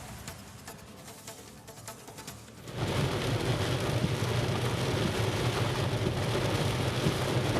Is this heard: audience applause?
no